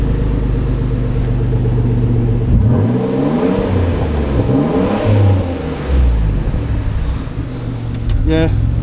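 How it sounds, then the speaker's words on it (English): A Nissan Stagea M35 engine with a straight-pipe exhaust rumbles loud and rough, revving up and down several times, with brief voices speaking over the throaty exhaust noise. "It sounds like a beast."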